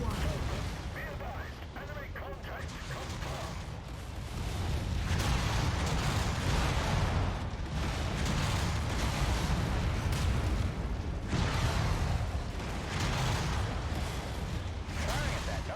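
Mech weapons firing in the video game MechWarrior 5, a dense, continuous roar of heavy blasts and rumbling impacts that swells and stays loud throughout, with a faint voice underneath.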